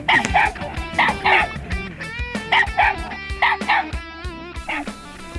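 Hunting dogs bark, yip and whimper excitedly at a raccoon treed above them, a loud, rapid series of overlapping close barks and high yelps continuing throughout.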